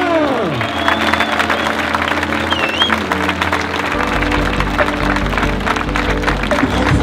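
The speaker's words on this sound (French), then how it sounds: "vous allez pour tous les bénévoles me faire un maximum d'applaudissements s'il vous plaît" A crowd applauds and cheers for the volunteers at the start of the Grand Trail du Lac du Bourget 2024, a steady, dense wash of clapping and cheering that continues throughout, with a voice occasionally rising over it.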